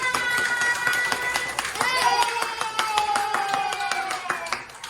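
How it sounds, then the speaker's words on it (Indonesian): Rapid hand claps from a small group of children in a classroom lesson ring out through the whole stretch, with children's voices and chatter mixed in. "Tepuk tangan buat kita semua."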